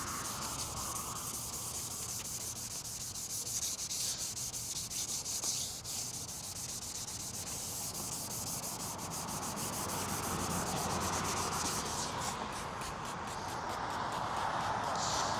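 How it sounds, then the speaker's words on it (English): 600-grit sandpaper rubs steadily over the headlight lens of a 2018 Lincoln MKC, giving a continuous close, gritty hiss that stays even for the whole stretch. "as I'm sanding, there's a difference in sound when sanding with the 600"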